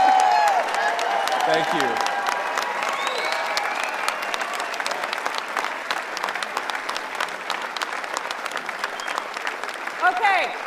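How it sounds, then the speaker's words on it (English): A large crowd at the Conservative Political Action Conference gives a standing ovation, with dense sustained clapping and some cheering that carries on steadily, while a speaker briefly says a few words over it. "I'll take a standing ovation for a speech I already gave"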